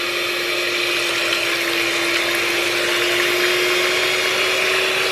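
A stand mixer whipping four egg whites, with a steady whirring motor hum and a continuous wash of beating noise, loud and unchanging throughout with no talking.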